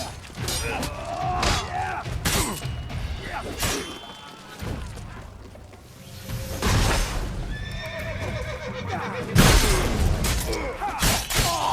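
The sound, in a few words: horses neighing in the video game The Witcher 3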